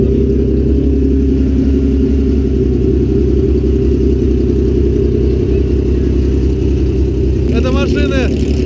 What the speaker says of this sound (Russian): Машины из разных стран, из разных серий, да, которые никогда в жизни не могли оказаться вместе, тем более ездить.